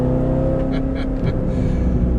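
A Chevrolet Corvette C7 ZR1's supercharged engine pulls hard under acceleration, a loud, close, droning rumble heard from inside the car with no talk.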